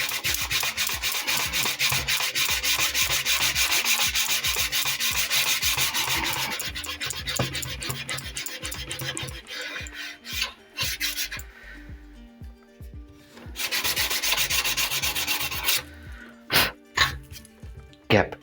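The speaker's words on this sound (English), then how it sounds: "Now just sand it up." Sanding wooden hull planking on a San Felipe model ship, with steady rapid back-and-forth rasping strokes for several seconds, then pauses and shorter scrubbing bursts, close and fairly loud.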